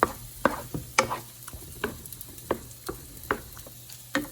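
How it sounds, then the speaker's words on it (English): Scrambled eggs and sausage frying in a cast iron skillet, with a soft sizzle under irregular scraping and clicking as the mixture is stirred and tossed, close and fairly quiet with no talking. "And scramble it just like you would regular scrambled eggs."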